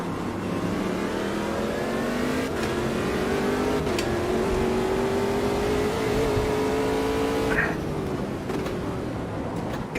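Race car engines at Daytona in the racing game Automobilista 2, one loud close engine droning and climbing in pitch through the gears with a few brief shifts, no talking.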